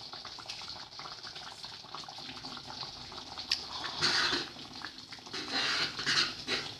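Hot and sour soup boils on a medium flame with a faint, continuous bubbling and hiss. The simmer grows a little louder in brief swells toward the end, and no one speaks.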